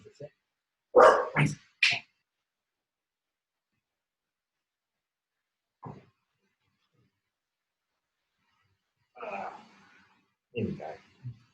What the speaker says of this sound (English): Short interlude from my dog.